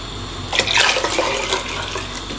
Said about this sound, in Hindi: 4 लीटर पानी टोटल गया इसमें